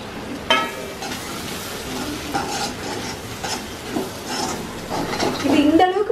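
Crushed roasted peanuts stirred and fried in a pan, a steady soft sizzle under scraping spoon strokes and occasional clinks, close, with someone talking over much of it.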